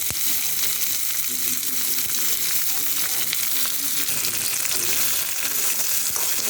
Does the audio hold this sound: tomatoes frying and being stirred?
yes